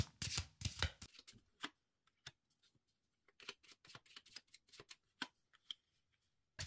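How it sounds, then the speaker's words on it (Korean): Tarot cards are shuffled and drawn, with a soft riffle at first and then scattered light taps and flicks, faint and close in an otherwise quiet room. "그럼 제가 추가 카드 좀 뽑아보겠습니다."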